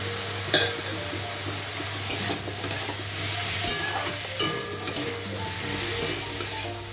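Shrimp and tomatoes sizzle steadily in a frying pan, with a spatula scraping and stirring at irregular moments throughout.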